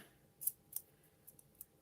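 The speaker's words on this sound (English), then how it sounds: "with these micro tip scissors, you can get into those little nooks and crannies" Micro tip scissors snipping paper for a scrapbook craft, several short crisp cuts in an irregular rhythm, close and quiet with no talking.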